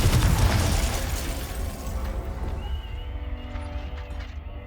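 A Confringo blast spell explodes in Hogwarts Legacy with a loud, close boom whose rumbling tail slowly fades over several seconds, and faint ringing tones linger at the end.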